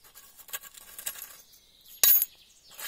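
A bright burst of metallic clinking as several gold coins tumble together, loud and close, preceded by softer scattered clinks in a quiet room.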